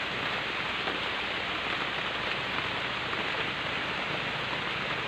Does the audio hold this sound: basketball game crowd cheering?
no